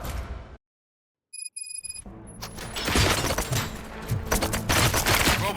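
Bursts of gunfire in the RoboCop: Rogue City video game erupt after a short silence broken by a few electronic beeps, then a dense, loud barrage of shots continues to the end.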